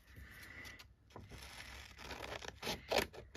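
Scissors snip and rustle through dictionary pages being cut out for folded notebooks, a run of soft scraping cuts and paper handling that grows louder near the end, with no talk.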